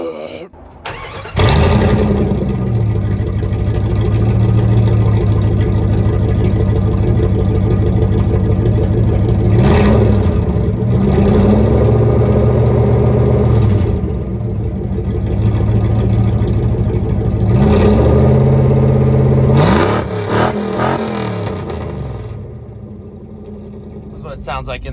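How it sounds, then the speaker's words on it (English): A straight-piped Jeep Grand Cherokee 5.2L V8 starts and revs repeatedly, loud and close, its deep exhaust rising and falling through several blips between steady rumbling idle stretches. "let's see how it sounds straight piped"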